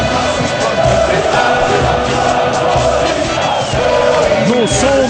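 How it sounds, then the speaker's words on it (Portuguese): Loud, dense roar of a football crowd filling a stadium during the anthem at a Libertadores final between Corinthians and Boca Juniors, with massed voices chanting and cheering continuously, up close. "No som do hino, a comemoração com a torcida."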